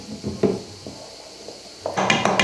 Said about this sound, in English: I'm going to mix that, stir that.